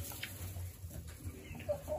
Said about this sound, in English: The chickens, of course, want to eat.